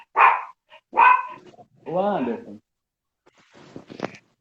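A female dog barks in a home in Sete Lagoas, Brazil, with two sharp close barks followed by a longer growling bark, then quiet rustling and a faint voice.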